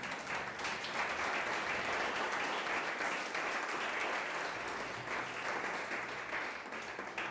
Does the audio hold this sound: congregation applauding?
yes